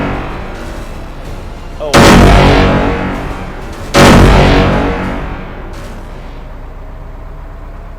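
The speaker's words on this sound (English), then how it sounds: "Brace yourselves, I'm going to shoot." Two heavy, booming tank cannon shots ring out in the Arms Trade Tycoon Tanks video game, about two seconds apart, each a loud sudden blast fading into a long rumbling tail, with a brief spoken exclamation in between.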